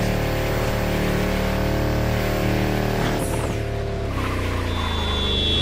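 A tuned Volkswagen Touareg in The Crew Motorfest revs hard and steadily, its engine note holding loud and close before shifting pitch partway through, with a thin high whine joining near the end.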